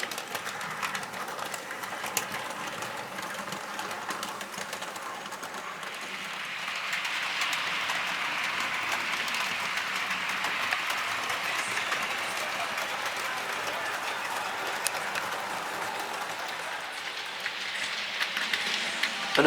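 A model Class 31 locomotive pulls its coaches slowly around the track, giving a steady, close rattling hiss that grows slightly fuller partway through and continues without pause. No one speaks.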